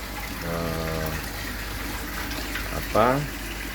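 Water pours steadily into a tilapia fish pond, making a continuous rushing gush while a person talks briefly over it.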